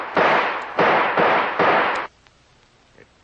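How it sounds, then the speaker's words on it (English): A gun fires at a door lock in four loud, harsh blasts about half a second apart, each sustained briefly, followed by near silence with faint small noises. "The only chance is to shoot the lock off that door."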